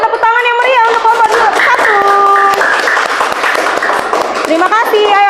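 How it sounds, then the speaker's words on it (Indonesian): Classroom applause from a group of schoolchildren for a team of classmates, steady clapping throughout with children's voices and sung or chanted tones over it. "Ayo beri tepuk tangan yang meriah untuk kelompok"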